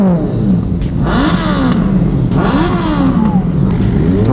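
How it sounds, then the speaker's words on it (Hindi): A Kawasaki Z800 motorcycle is revved up hard twice, each rising roar sweeping upward and falling back to a rumbling idle, close and loud. "ये है मनोहर भाई का बाइक"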